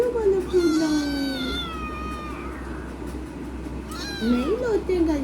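A pet cat meows angrily in two long, drawn-out, wavering yowls, close and loud, with someone talking in the background.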